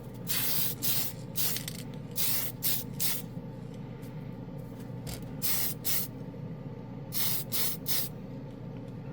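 Tamiya TS24 purple spray paint hissing onto a plastic model in short close bursts, roughly ten quick sprays in clusters separated by brief pauses.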